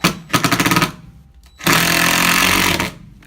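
A power drill drives screws into wood on an off-grid cabin addition. A short run of rapid, pulsing bursts is followed by a pause, then a longer, steady high-revving whir up close.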